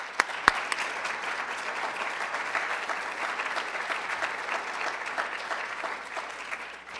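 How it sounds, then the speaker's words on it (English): Audience at a disarmament keynote event applauding, a dense, sustained wash of clapping from a large crowd with a few sharp close claps near the start. "Another round of applause"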